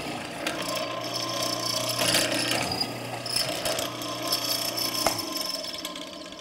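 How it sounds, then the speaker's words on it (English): A benchtop hollow chisel mortising machine plunges into wood to cut a mortise, giving a whirring motor with repeated grinding, chattering bursts as overlapping passes clear waste, loud and close with no voices. "that's how you cut a mortise with a benchtop mortising machine"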